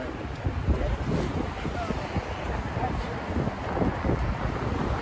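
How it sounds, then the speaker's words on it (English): Strong wind in Manhattan, New York City, buffets the microphone in a constant roaring rush with gusty swells, loud and close, and no one speaks. "It's very windy."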